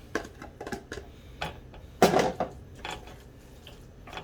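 Seafood pasta with shrimp, scallops, zucchini and yellow squash noodles tossed in a pan, giving irregular clinks and scrapes of a utensil against metal, with one louder clatter midway.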